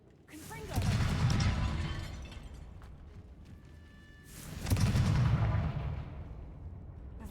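Confringo spell blasts in Hogwarts Legacy, two heavy booming explosions about four seconds apart, each swelling and then rumbling away, with crackling debris in between.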